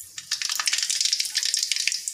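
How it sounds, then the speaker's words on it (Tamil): Mustard seeds splutter and pop in hot oil in an iron kadai, giving a close, crackling patter of sharp bursts that thickens into dense sizzling. No voices are heard. "கடுகு நல்லா பொரிஞ்சிடுச்சு."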